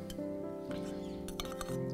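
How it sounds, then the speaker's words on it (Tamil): Light clinks and soft taps as mango pieces drop into a bowl, playing over steady background music. "இதில் மாம்பழம் போட்டுருவோம்."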